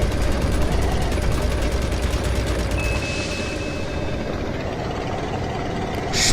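Rapid machine gun bursts in Call of Duty Mobile Battle Royale, a dense, loud rattle of fire over a low engine hum during the first few seconds, then a quieter steady rumble.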